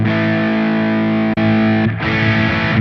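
An electric guitar plays through the Hotone Ampero Mini's Mesa Boogie Dual Rectifier amp model on channel 3 with heavy high gain. A thick distorted chord rings out, drops for a moment, then resumes and sustains.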